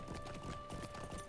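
Rhythmic horse hoofbeats clip-clopping in the online game Lord of the Rings Online, faint and steady at a trotting pace with a thin tonal hum underneath.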